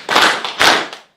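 Two loud, close hand claps separated by about half a second, each sharp and ringing briefly before fading into silence.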